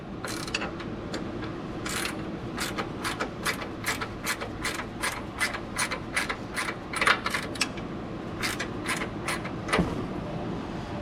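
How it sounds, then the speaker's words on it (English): A hand ratchet tightening the top shock mount on a 2009 Ram 1500 2WD, sounding as a close series of sharp clicking bursts in a steady back-and-forth rhythm over low background hum. "We're gonna finish tightening this top of this shock mount up"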